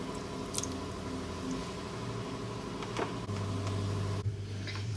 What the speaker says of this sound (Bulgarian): И сега си разбиваме добре тази смес